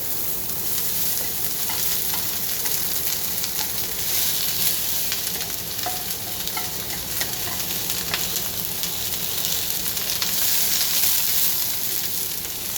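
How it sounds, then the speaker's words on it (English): Onions frying in a hot pan on a stovetop during a tteokbokki rosé pasta cook, a steady close sizzle and crackle running throughout with occasional faint clinks and stirring, no talking. "And then I will get my onions going."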